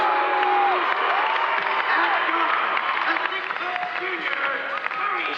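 A raucous high school basketball crowd fills a gym while starters are announced, a dense wash of cheering and chatter with scattered whoops, a commentator talking over it throughout.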